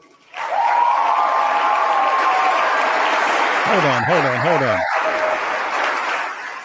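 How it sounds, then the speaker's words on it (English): Crowd at a live political event breaks into loud, sustained applause that starts abruptly and carries on for several seconds, with a voice briefly speaking over the clapping. "It was all thunderous applause."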